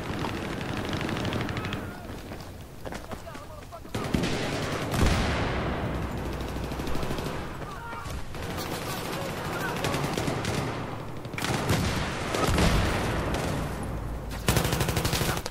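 Rapid bursts of automatic gunfire in the Battlefield 3 multiplayer beta, dense, loud volleys repeating across the clip with short gaps, while a player speaks briefly.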